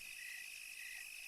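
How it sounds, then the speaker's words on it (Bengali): Crickets chirping at night beside a dark, empty road: a continuous, shrill, even trill that holds steady and fairly faint, with no other sounds. "শুধু ঝিঝি পোকার ডাক শোনা যাচ্ছে।"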